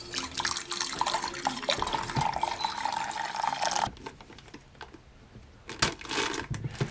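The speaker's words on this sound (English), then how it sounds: "Add the same amount of boiling water and stir it for a minute or 2." Boiling water pours into gelatin mix in a steady, close liquid rush, then the pour stops and spoon-stirring follows as lighter, irregular clicks and swishes; no one speaks.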